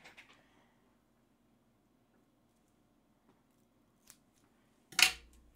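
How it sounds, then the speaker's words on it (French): Scissors snip through a piece of ribbon in a quiet craft room: a few faint ticks, then one sharp, close cut near the end. "Hop là, on va couper un morceau."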